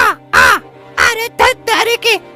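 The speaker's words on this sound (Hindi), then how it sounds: "कौवा आराम से उड़ता हुआ जा रहा था।" Cartoon crow cawing in a series of harsh, nasal calls, about five loud bursts in an uneven rhythm, close and clear against a quiet background.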